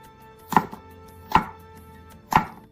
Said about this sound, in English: Slice diagonally about 7/5/16 of an inch thick, cut into bite-sized pieces.